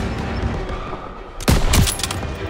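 A short, loud burst of machine gun fire in the Call of Duty WWII Stronghold battle, a few rapid cracks over constant battlefield noise, with no one speaking.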